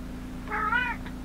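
A single drawn-out cat meow, close and clear, followed by a brief faint trailing sound over a low steady hum.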